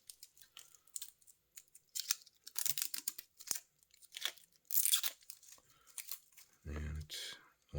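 Stickers are peeled from a new Citizen Tsuyosa blue watch with a steel bracelet and folding clasp, giving close, short tearing and crinkling bursts in irregular bits, with a deeper thump near the end.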